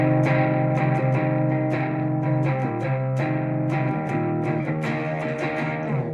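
A distorted electric guitar plays a riff of repeated picked notes with a thick, saturated tone, steady and loud throughout.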